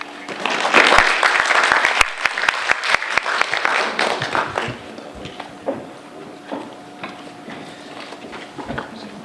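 A conference audience claps to welcome the USAID Georgia Mission Director to the stage: dense, loud applause builds at once, then thins into scattered claps and fades over several seconds.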